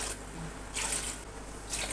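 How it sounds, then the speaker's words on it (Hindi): Water is poured from a glass into a cooking pot holding mutton, a steady close splashing stream with a couple of brief surges, heard without any talk. "3 गिलास पानी डाल दूँगी।"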